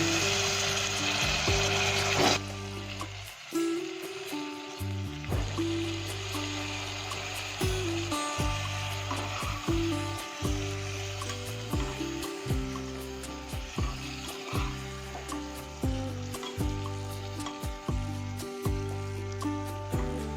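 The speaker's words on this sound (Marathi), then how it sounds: "आता याच्यामध्ये टाकूया वांग्याच्या फोडी" Brinjal pieces drop into a hot pan of tamarind-jaggery masala and fry with a steady sizzle, broken by repeated sharp clatters and scrapes of a spoon stirring the pieces through the masala.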